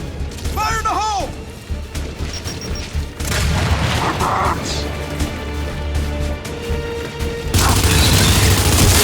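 Heavy booms and crashing blasts from a grenade explosion in the video game Gears 5, mixed with gunfire and game effects, loud and close, with voices shouting over the combat.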